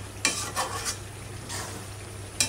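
Chicken and potatoes stirred in a hot oiled pan make a soft sizzle, broken by a few scraping strokes of a spatula, faint and close with no talk.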